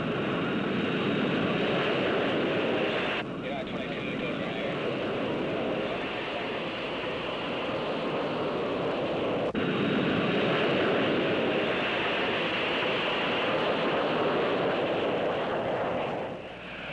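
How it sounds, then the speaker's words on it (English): A 1962 United jet airliner, a Douglas DC-8 or Boeing 720, roars on takeoff at Los Angeles: a loud, sustained broadband jet rumble and whine holding steady, then fading slightly at the end. "A few minutes later, Flight 766 is in position for takeoff."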